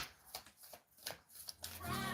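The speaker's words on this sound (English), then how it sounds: "I've been shuffling these cards" Playing cards being shuffled by hand, a series of quick riffling bursts close by, followed by music starting up at the end.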